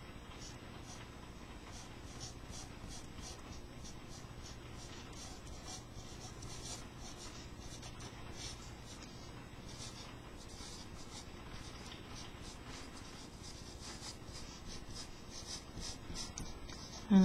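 Pen scratching out a chemistry half reaction on paper, a faint, close, continuous scratchy stroking with short repeated strokes, under a quiet background and no clear talk.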